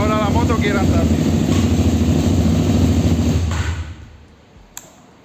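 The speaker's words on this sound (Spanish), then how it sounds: "Y ahora la moto quiere andar bien." A KTM Superduke 990 LC8 motorcycle engine running loud and close with a throbbing, pulsing idle, then dying away after about four seconds, followed by a single knock.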